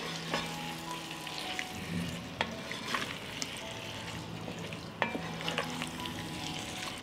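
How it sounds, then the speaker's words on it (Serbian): Chopped sausage and hot dogs fry with vegetables as they are stirred, producing a continuous close sizzle broken by repeated scraping strokes and sharp utensil knocks. "Dodat ću seckanu kobasicu,"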